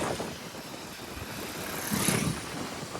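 A Yakuza electric scooter with 628 km on it runs in first gear and jerks slightly. The steady, moderately loud whirring drive noise swells briefly near the end, with no talking.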